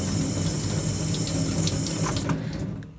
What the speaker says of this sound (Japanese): 洗うブラシをね持って水道でこう軽く水洗いしていきます